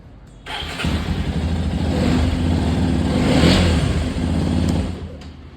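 A rebuilt Hero XPulse 210 motorcycle engine catches and runs at a steady, loud idle with mild revving, continuous for several seconds before cutting off near the end.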